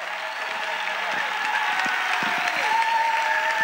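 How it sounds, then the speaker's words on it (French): Congregation at a national Bible camp applauding for Jesus, dense sustained clapping from a large crowd with some cheering and faint voices mixed in. "Clap for Jesus."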